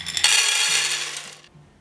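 Half a kilogram of dry white beans pours into a cooking pot as a bright rattling, pattering cascade lasting a little over a second, then trails off.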